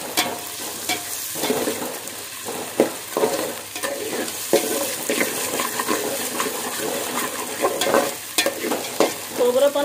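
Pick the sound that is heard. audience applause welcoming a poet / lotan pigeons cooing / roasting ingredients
roasting ingredients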